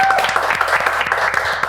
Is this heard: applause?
yes